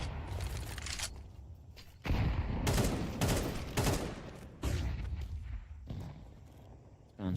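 Rapid gunfire sprayed through smoke in an esports shooter match, several loud bursts of fast shots separated by short pauses.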